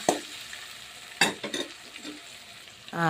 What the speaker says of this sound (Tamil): இஞ்சி பூண்டு பேஸ்ட்டு போட்டு அதையும் நல்லா வதக்கிக்கணும்